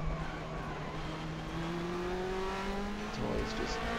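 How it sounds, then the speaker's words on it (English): A Nissan GTR Super GT in a sim racing game at Suzuka Circuit, its engine droning steadily with rising pitch while the tyres squeal faintly over it, brief scrubbing bursts toward the end. "Tyre's just squealing away there"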